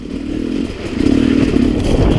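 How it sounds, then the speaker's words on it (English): A 2017 dirt bike engine runs close and loud, a steady rough buzzing drone with rattly clatter that swells slightly midway as it revs. "if you have a hankering to get a 2017 sweet bad A dirt bike for about the price of a t-shirt"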